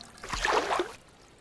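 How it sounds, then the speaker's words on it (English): Splashing step into shallow pond water in a Nancy Drew adventure game set in a Japanese garden, a short sloshing burst lasting under a second, close and fairly soft, then quiet. "And then you can actually step into the water"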